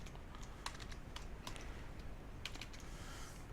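A computer keyboard is tapped in a quiet room, with quick bursts of faint, crisp keystrokes clustered in short irregular runs.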